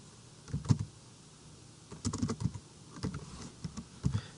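Keys on a computer keyboard clatter in irregular bursts while code is entered, with soft close clicks, a short pause and then quicker runs of keystrokes, and nobody talks.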